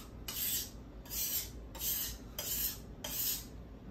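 Kitchen knife stroked across a whetstone during sharpening, five evenly spaced gritty rasping strokes, each about half a second long, close and fairly quiet with no talking.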